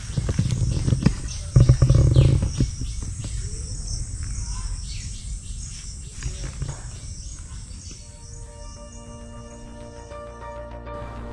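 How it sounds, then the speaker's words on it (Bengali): Crickets chirp continuously in a sal forest near Valki village while assorted birds call around them, a dense layered chorus that starts louder with a brief low rumble and settles into a steady, moderately faint insect drone. "শুনুন চারিদিকে কত রকম পাখির ডাক আর ঝিঁঝি পোকার আওয়াজ"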